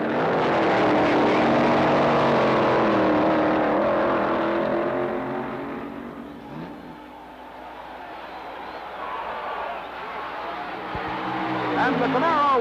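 Engines roar in a Stock Eliminator drag race final between a 1967 Camaro and a 1957 Chevy wagon, a loud sustained rumble that dips slightly and then swells again, with an announcer talking over it.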